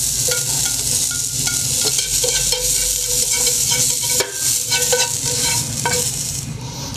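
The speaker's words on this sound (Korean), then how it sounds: "당근을 볶아 보겠습니다." Carrots stir-fried in a frying pan for Korean royal court cuisine, with continuous loud sizzling and scraping stirring sounds close by, no talking.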